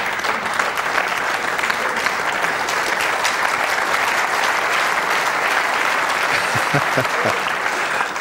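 Applause from a snooker crowd at the Crucible during the 2004 World Championship semi-final, dense and sustained clapping from nearly the whole audience, loud and steady with no talk over it.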